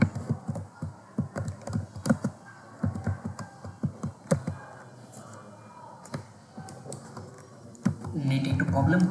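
Keystrokes on a computer keyboard while entering a search on Fiverr: close, crisp bursts of typing in uneven clusters, then a quieter pause before a fuller background swell at the end.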